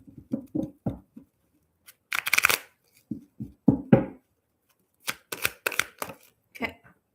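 Sticky tarot cards are shuffled by hand in several quick papery bursts of riffling and patting, close and moderately loud, with short quiet gaps between them.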